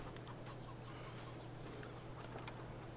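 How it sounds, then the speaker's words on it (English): Free-range chickens cluck softly on a farm in the Farming Simulator 22 video game, a quiet scattered clucking over a steady low hum, with no talking. "But we have got free range chickens in the farm."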